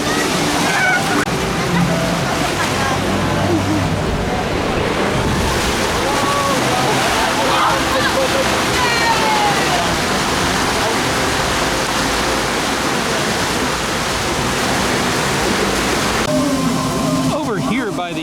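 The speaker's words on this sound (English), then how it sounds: "Over here by the river rapids," Rushing water at a river rapids ride in Toverland theme park, a loud continuous roar and splash of churning water with a voice talking over it throughout.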